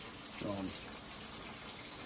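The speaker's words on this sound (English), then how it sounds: "We just fill with water. Hot water. Hot water out of the tap." Hot water runs from a kitchen tap to fill canning jars, a steady, even rush of flowing water throughout, with a short bit of voice near the start.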